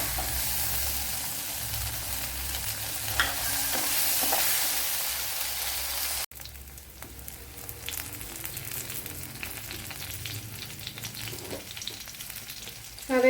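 Okra sizzles steadily in a hot pan, a broad continuous frying hiss with occasional scraping stirs, a brief break midway, then frying resumes slightly quieter with light clinks from the spoon.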